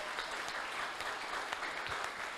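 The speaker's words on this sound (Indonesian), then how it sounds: "Ragu-ragu ini tepuk tangan bagi Tuhan semuanya." A church congregation applauds together, a steady wash of many hands clapping, fairly faint and distant, with no voices over it.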